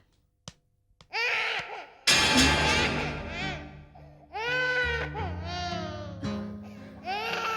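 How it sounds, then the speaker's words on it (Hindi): An infant cries hard and close, in long wailing sobs broken by short pauses and gasps, and a few faint clicks come before the crying starts. "तुमने एक बच्चे के रोने की आवाज सुनी?"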